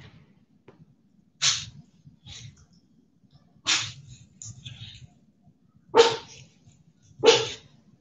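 A dog at home during cooking gives four short, sharp barks, spaced a second or two apart, fairly close in an otherwise quiet room.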